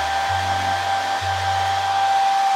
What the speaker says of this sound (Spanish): pongo el secador en el aire bajito y hago como así,